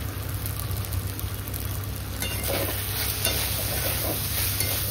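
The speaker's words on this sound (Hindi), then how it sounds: "और इसको साथ साथ मैं चलाते जा रही हूँ ताकि मेरा मसाला नीचे लगे नहीं" Dry ground spices, turmeric and coriander powder among them, frying in a pan for a soybean and pea curry, a steady close sizzle with scraping stirring strokes that grow busier partway through.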